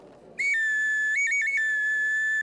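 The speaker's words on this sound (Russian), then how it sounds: "Если подача воздуха незначительная, делается игрушка свистулька маленькая." Small clay toy whistle blown close up, a bright sustained piercing tone that steps between two or three pitches in a short warbling pattern, then cuts off.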